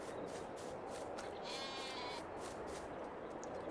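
A sheep bleats in Farming Simulator 22 over a loud, steady background hum, its wavering cry rising briefly in the middle.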